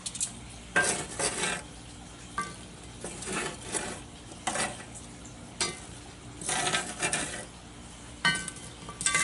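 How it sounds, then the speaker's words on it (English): Heavy cast-iron Dutch oven lid set on at an outdoor coal cook of short ribs, heard as a series of loud metallic clanks and scrapes spaced every second or two, with a faint sizzle underneath. "We're going to put the lid on."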